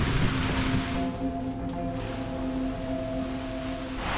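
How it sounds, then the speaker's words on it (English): Steady broadband wind and rain roar around a liferaft adrift on a rolling sea, with water wash and a low tonal hum running continuously underneath, loud and unbroken, no voices. "the wind is starting to pick up a lot, it sounds like. It's pouring rain."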